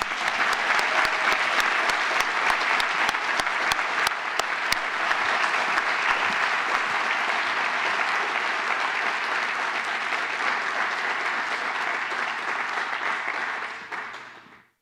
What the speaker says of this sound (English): Let's give these amazing students a round of applause.